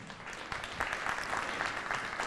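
Audience at an elementary school red carpet celebration applauds steadily, a dense wash of clapping that holds at an even level throughout without a voice on top.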